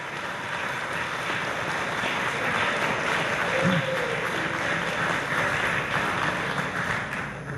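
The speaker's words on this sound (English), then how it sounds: "Let's give all of those folks a round of applause." An audience applauds at a State of the City address, a steady, moderately loud wash of clapping that runs the whole stretch without a break, with a brief low murmur partway through.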